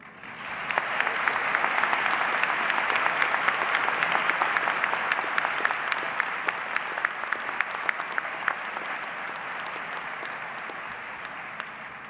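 Sustained applause from a large audience at a university medical school commencement ceremony, steady dense clapping that swells early, holds, then slowly thins toward the end, with no talking over it.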